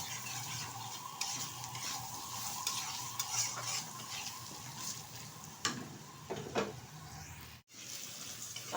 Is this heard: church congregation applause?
no